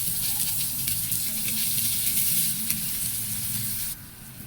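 Garlic and onion sauté in a hot pan, making a loud, dense, continuous sizzle with faint stirring underneath. The sizzle drops off abruptly near the end.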